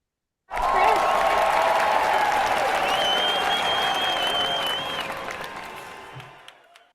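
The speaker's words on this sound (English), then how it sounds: "Everyone, if you wouldn't mind, rounds of applause, please, for Christopher Miller." An audience claps loudly after a speaker-spotlight introduction, a dense wash of applause that starts abruptly, holds for several seconds, then tapers off gradually.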